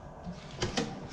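A kitchen drawer in a new 2019 Ice Castle 21-foot Xtreme RV is pushed shut, making two quick close knocks a split second apart against a faint steady background.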